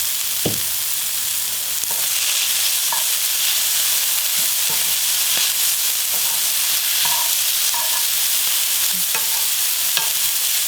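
Seaweed stems stir-fry in a pan with perilla oil, a loud steady sizzling hiss with scattered pops and occasional clicks of stirring, no one speaking.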